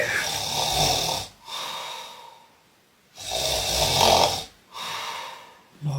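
A person snores in long, loud rasping breaths with quiet pauses between them. Three snores come at a steady rhythm, close by, and no one talks over them.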